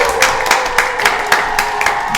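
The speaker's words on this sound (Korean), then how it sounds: "박수로 한번 환영해 볼까요?" A small audience clapping to welcome a guest, rhythmic, evenly spaced claps at a steady pace over a constant background hum, close and fairly loud.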